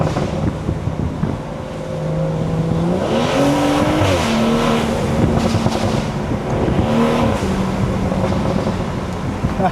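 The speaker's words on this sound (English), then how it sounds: "I lost traction like a motherfucker right there." Stage 2 BMW B58 straight-six car driving hard, engine note rising and holding in steady sweeps, with a loud continuous broadband wash of road and tire noise suggesting wheelspin; no talking.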